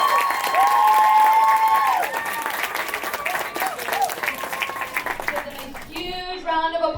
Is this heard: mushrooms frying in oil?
no